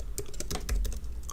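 Rapid keystrokes on a computer keyboard while writing HTML code, an irregular patter of close, crisp clicks with no talking.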